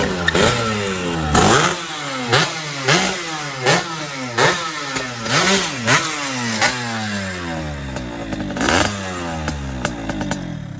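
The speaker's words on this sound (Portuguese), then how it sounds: "Dá pra saber que a moto tá boa, já sabe pelo ronco." Two-stroke Yamaha RD motorcycle running on ethanol with a VForce 4 reed valve and tuned ignition, revved repeatedly in sharp, loud bursts that rise and fall between short idle stretches, close to the microphone.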